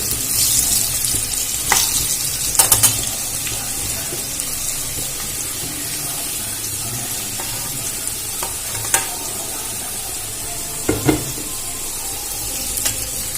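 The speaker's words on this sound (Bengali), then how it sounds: "আমি আলুটাই নুন আর হলুদ দিয়ে ভেজে নেব।" Potato pieces seasoned with salt and turmeric fry in hot oil in a pan, a constant close sizzle with occasional spatula clinks and stirring scrapes throughout.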